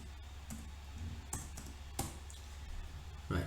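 A few isolated, faint keystrokes on a computer keyboard, spaced irregularly in a quiet room, with no talking.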